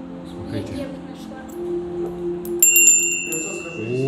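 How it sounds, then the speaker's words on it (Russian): A small hand bell rings out bright and clear for a few moments, its tone sustained over a steady low background hum and murmuring voices. "Каждый звук колокольчика по-своему уникален."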